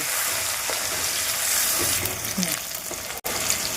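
Chopped onions sizzling in a pan of hot oil with cardamom, cloves and bay leaves, a steady close frying hiss broken by a few soft scraping stirs.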